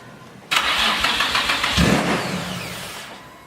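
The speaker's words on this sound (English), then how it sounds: "Gonna try and start it up now" A Nissan 350Z coupe engine cranks and fires up with a sudden loud burst, then settles into a rough, steady running roar close by, fading slightly toward the end with no talking.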